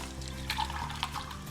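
Rice being washed in a pot of water, with short sloshing and splashing bursts and a few drips standing out over a low background hum.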